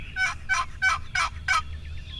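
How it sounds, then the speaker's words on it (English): Wild turkey gobbling in the field during a hunt, five rapid, loud gobble bursts in quick even succession, then a faint trailing call, heard alone. "I know when they keep gobbling, they come that far"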